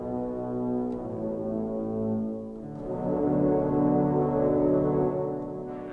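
Apocalypse sound effect layered into a cinematic score: a deep, sustained foghorn-like drone with rich low harmonics, swelling louder midway and holding steady to the end, with no voices.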